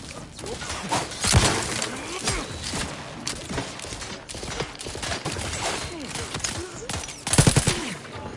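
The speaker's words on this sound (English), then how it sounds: "The acid gun suddenly got a huge upgrade." Acid gun firing in the video game Outer Worlds 2, with a dense run of rapid shots and crashing impacts that swells to loud bursts near the end, with game noise throughout.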